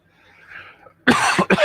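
After a faint breathy rustle, two harsh, loud coughs burst out close to the mic, one right after the other.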